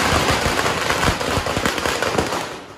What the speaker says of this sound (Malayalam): ഇവിടത്തെ അവസാനത്തെ പടക്കം പൊട്ടിക്കലാണ് നടന്നുകൊണ്ടിരിക്കുന്നത്